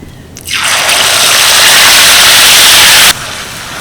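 Tomato, green chili, ginger, garlic and onion paste dropped into hot oil, bursting into a loud, dense roar of frying that holds for about two and a half seconds and then cuts off sharply to a lower hiss.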